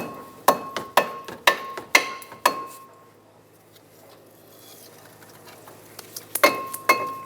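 On a 2014–2021 Mazda 6, a hammer raps the back of a stuck front brake rotor in two bursts of sharp, ringing metallic taps, five or six evenly spaced blows, then a quiet pause, then a few more hits.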